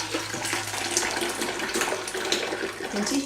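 Soursop juice poured from a container in a steady, continuous liquid stream, close and moderately loud, running for a few seconds without pause.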